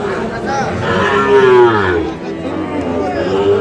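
Cattle at a busy livestock market with Sahiwal-breed bull calves, one loud drawn-out moo rising over the steady murmur of the crowd, with more lowing in the background.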